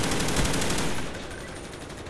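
An HK-21 machine gun firing in Black Ops 1, a loud, close, rapid burst of shots lasting about a second, followed by a lingering echoing tail.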